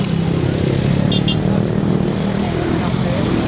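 A motorcycle on the C5 Extension road in Parañaque gives a loud, steady engine drone with road noise throughout, and people talk over it.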